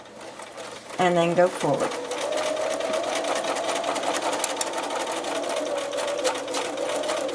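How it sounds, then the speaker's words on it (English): Sewing machine stitching a scrappy quilt binding, running steadily and close by for several seconds after a brief burst of motor whine, with a voice speaking briefly near the start. "Now we will go to the sewing machine and I'll show you how to sew them together."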